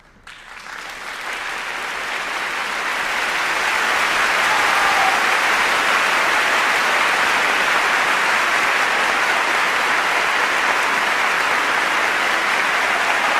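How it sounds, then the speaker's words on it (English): A crowd's round of applause swells up over the first few seconds, then holds as a thick, even wash of clapping to the end. "I think we all need to give her a round of applause"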